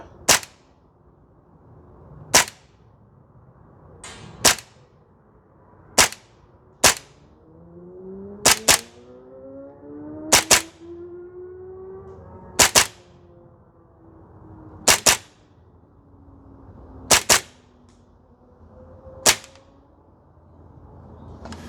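A Tokyo Marui MP7A1 gas blowback airsoft gun fires single shots on a range, each a sharp crack followed by a distant impact on a target, about ten shots spaced roughly two seconds apart over quiet background.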